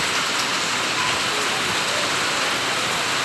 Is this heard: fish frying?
no